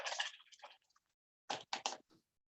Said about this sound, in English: Rinse the brush off.